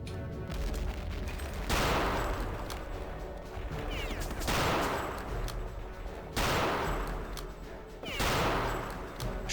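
Rocket launcher fire in Return to Castle Wolfenstein, a string of loud blasts about every two to three seconds, each a sharp burst that decays into a rumbling tail, with continuous game noise between.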